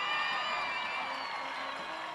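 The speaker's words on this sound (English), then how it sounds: "Give a big round of applause for the entire homecoming royalty" A crowd at a homecoming varsity football game cheers and applauds for the homecoming royalty, a steady, loud wash of clapping and whoops filling the stands throughout.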